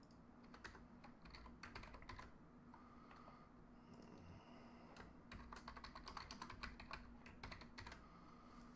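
Someone types on a computer keyboard in quick, uneven bursts of close, crisp key clicks over a low background hum, with short pauses between flurries.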